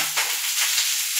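Finely chopped onion fries in about one and a half ladles of hot oil for a spicy Marathwada-style amti masala, giving a steady, close sizzling hiss with no voices over it.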